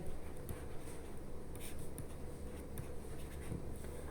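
Soft scratching of writing during a math lesson, faint and continuous under a dense, steady background hiss, with a few small taps and strokes.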